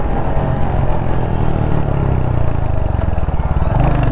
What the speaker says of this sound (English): I love the exhaust note on this machine,